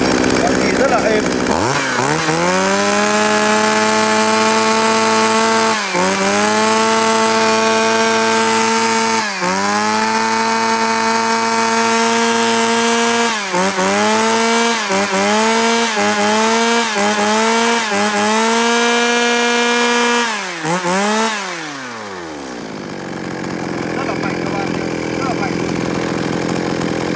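A used Japanese chainsaw, 38cc, roars loud and close during a test cut, repeatedly revving up and easing off in long pulls, then quicker bursts, before winding down to a low idle at the end.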